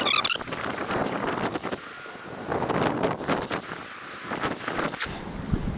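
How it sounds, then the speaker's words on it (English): A boat comes down a canal, its low engine rumble building under heavy wind buffeting the microphone, then cutting off abruptly near the end. "We've got a bloody boat coming down."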